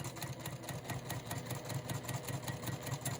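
A sewing machine stitches a seam on a quilt block, giving a quiet, fast, even mechanical whir with a regular pulsing rhythm and no talking.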